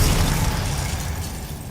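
An Arresto Momentum spell cast in the Hogwarts Legacy video game gives off a single loud, low rumbling burst that fades away over under two seconds, with no voices.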